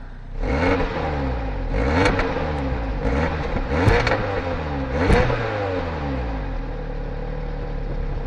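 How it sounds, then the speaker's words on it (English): A cheap convertible's engine, with a rusty exhaust pipe, revs up repeatedly in loud surges, rising and falling in pitch several times before settling into a steady idle. "I will rev the engine a little"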